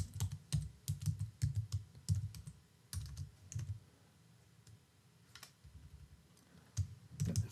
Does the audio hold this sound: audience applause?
no